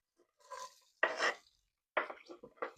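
Chopped onions, celery and peppers are tipped into a pan of cooking sausages, producing two or three short, clattering bursts of pieces hitting the pan, separated by quiet gaps.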